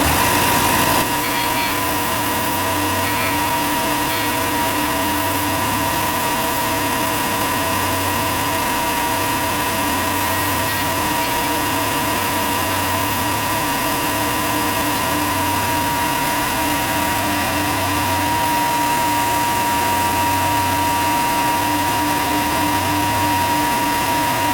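Power sander grinding steadily on a homemade wooden crankbait fishing lure, a continuous loud whirring drone with a pulsing low hum throughout, no voices.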